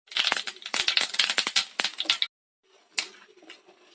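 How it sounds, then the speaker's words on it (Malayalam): Mustard seeds splutter in hot coconut oil, a dense burst of sharp crackling pops for about two seconds, then a brief silence and a quieter crackle with one louder pop. "ചൂടായ എണ്ണയിലേക്ക് കടുക് ഇട്ട് കൊടുക്കാം."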